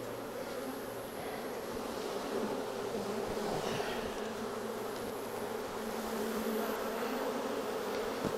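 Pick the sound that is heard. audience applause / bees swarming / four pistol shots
bees swarming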